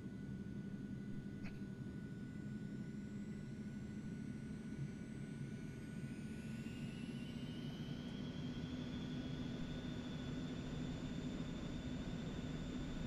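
Airliner in X-Plane 11 flight simulator accelerating for takeoff, a steady loud engine roar with a rising whine that climbs in pitch as thrust builds, continuous throughout with no talk.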